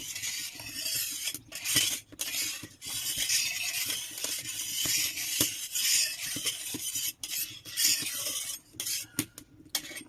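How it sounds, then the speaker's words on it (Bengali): A spatula spreads oil across a hot tawa griddle, making close metallic scraping strokes over a steady hiss, with brief pauses between sweeps. "তেল দিলাম, খুন্তিয়ে করে তেলটা চারদিকে মেলে দেবো।"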